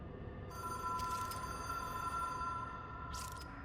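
A telephone in the Control video game rings with a steady electronic trill over a low ambient rumble, moderately loud and without speech.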